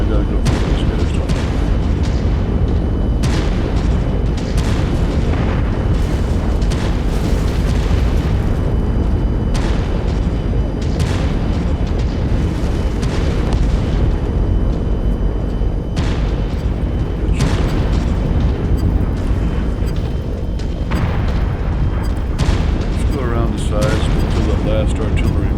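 Heavy artillery explosions and booming gunfire in a war video game, with dense continuous rumbling blasts layered over one another, loud and close, while a voice talks over the action.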